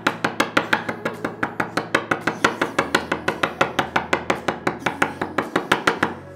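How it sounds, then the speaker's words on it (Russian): A fork pokes holes in dough: rapid, evenly spaced taps on a surface, dozens of sharp, steady strikes in a brisk rhythm with no talking. "В наших заготовках делаем дырочки с помощью вилки"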